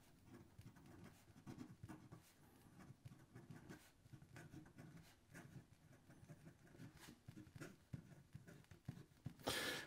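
A fountain pen nib scratches across paper in a quiet room, with faint, continuous, irregular strokes and small scratchy bursts throughout.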